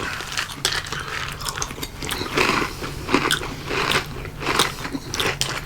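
Someone chews crunchy marshmallow breakfast cereal soaked in milk, with close, steady crunches and bites repeating in a quick uneven rhythm.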